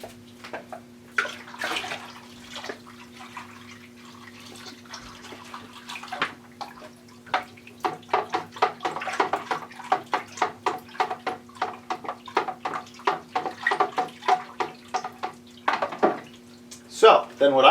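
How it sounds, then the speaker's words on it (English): Apple cider for a spiced cider brew pours into a container, splashing and gurgling in uneven bursts that grow louder toward the end, over a steady low hum. "Now we're going to add the cider."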